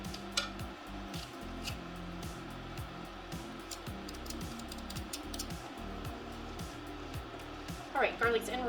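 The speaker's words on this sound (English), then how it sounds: "All right, garlic's in. We're gonna stir it up." Garlic being stirred in a cooking pan for a sourdough dressing, a steady scraping and soft sizzle with repeated utensil strokes against the pan, close and continuous, with a brief louder clatter near the end.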